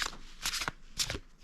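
A tarot card deck being shuffled, with bursts of riffling cards in quick succession, close and fairly loud with no talk.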